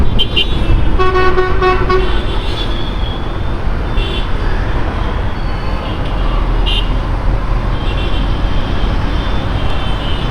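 Motorcycles in a Yamaha riders' group ride through Dhaka road traffic, a steady loud engine drone with horn toots near the start and around the middle, and voices talking over it.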